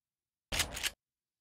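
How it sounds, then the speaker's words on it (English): A single short mechanical clack-clack burst of a shotgun pump action sound effect, close and fairly loud, lasting under half a second before silence. "You can hear the pump sounds happening at the end of the waveform"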